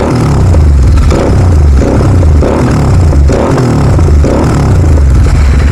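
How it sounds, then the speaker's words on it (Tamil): A GT650 motorcycle fitted with a Red Roadster exhaust revs loud and close, a deep, throbbing rumble with rhythmic surges and a crackling edge. "That's the exhaust note, Red Roadster."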